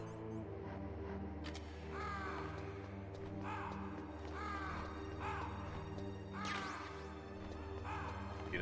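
Crows caw in repeated rasping calls over a steady droning hum of ambient game sound inside a room in Metal Gear Solid, with a brief crash near the end.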